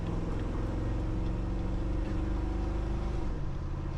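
A car accelerates hard through the gears from a stoplight, its engine giving a loud, steady droning roar that is heard close by.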